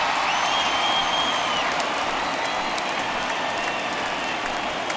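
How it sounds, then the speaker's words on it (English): Home crowd applause and cheering in MLB The Show 19 as a departing Red Sox pitcher leaves the game, a sustained dense ovation filling the stadium at steady volume, with a few faint sharp whistles. "So he receives a nice ovation from this home crowd, departing after surrendering just one earned run."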